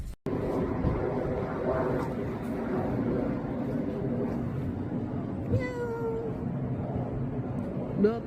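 A cat meows a few times, brief wavering cries over a steady background rumble of an engine or motor.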